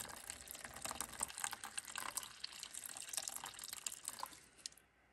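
Water poured into a self-heating beef hot pot up to the fill line, a soft continuous trickling and splashing stream running for about five seconds before tapering off.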